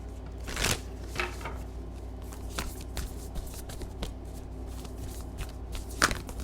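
A Moonology tarot card deck is shuffled by hand, giving soft, quiet riffling and tapping with irregular bursts of card noise over several seconds, close by with no talk.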